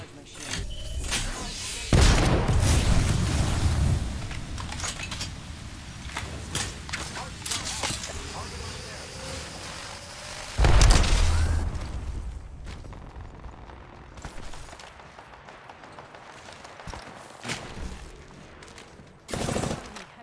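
Gunfire from the video game Apex Legends, with loud bursts of shots and booms standing out over a busy game mix, separated by quieter stretches.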